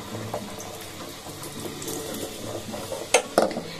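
Hot water mixed with salt and sugar is poured into a dish, a soft steady trickle and splash close by, ending with a couple of louder clinks.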